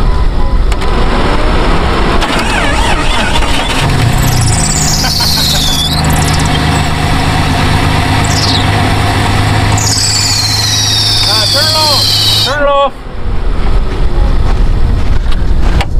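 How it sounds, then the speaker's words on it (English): A Jeep rescued from a mouse infestation after sitting two years cranks and catches, its engine running loud and rough with a high screeching belt squeal over the rumble, then cutting off abruptly. "The crank took off running, but the belt wouldn't turn."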